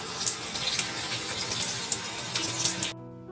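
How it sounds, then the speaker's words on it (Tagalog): Water runs steadily from a shower in a bathroom, a continuous splashing hiss with a few brighter drips, then cuts off abruptly near the end. "mag-shower lang ako"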